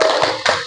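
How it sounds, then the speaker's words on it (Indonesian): A school class does a rhythmic spirit clap, giving two quick, sharp claps together in close succession, loud and near. "Tepuk semangat untuk kita semuanya."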